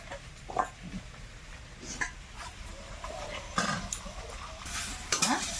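Pumpkin flowers tossed into a hot pan, crackling and sizzling steadily as they are stirred, with scraping clicks and a few louder bursts of spattering oil close by.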